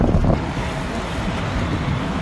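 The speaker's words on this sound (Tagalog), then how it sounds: "Sobrang hangin guys." Strong wind outdoors near a residential building, a constant low rumble battering the microphone, loud and close with brief stronger gusts and no talk.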